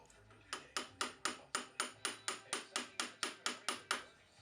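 On a BMW E30 front wheel hub, about fourteen sharp, evenly spaced metallic taps ring out close by, each decaying quickly, consistent with hammering a spindle nut dust cap into place.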